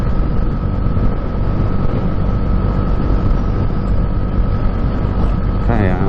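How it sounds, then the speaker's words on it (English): A Bajaj Dominar 400 motorcycle engine cruises at about 6,000 RPM near 100 to 110, giving a loud, steady droning whine with a constant pitch and rushing road noise underneath. "This engine is just singing beautifully."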